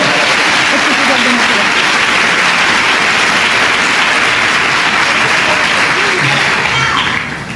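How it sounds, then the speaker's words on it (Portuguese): A large church congregation bursts into loud, sustained applause for Jesus, dense and steady throughout with a faint taper at the very end and no talking over it. "aplaude Jesus com força"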